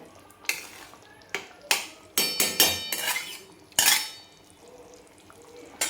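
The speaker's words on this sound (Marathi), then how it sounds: "आता मिक्स करून घ्यायचं आहे आपल्याला" A spoon clatters against the pan as shahi paneer masala gets stirred, a run of sharp, close metallic scrapes and knocks coming in irregular bursts with quiet gaps between them.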